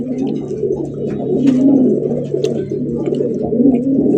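Large pigeons offered at a pigeon sale coo steadily and close by in low, throaty, rolling calls, with no talk over them.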